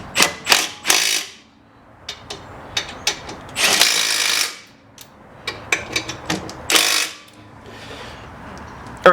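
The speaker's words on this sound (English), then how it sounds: "now we're going to tighten those down with an impact gun" Impact gun driving the brake caliper bolts on a 2014 Lexus GS350, heard in several loud, close bursts of rattling hammering separated by pauses and quieter ratchet clicks.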